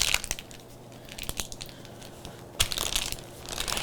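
Parchment paper crinkling and crunching as butter is pressed and forced into its corners, in irregular close bursts with a louder crackle near the end, no talking.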